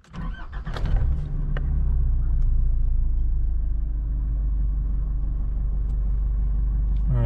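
A 2025 Nissan Navara Calibre VE 4x2 pickup with manual transmission cranks briefly, fires up, and settles into a steady, close, low idle rumble that runs on alone.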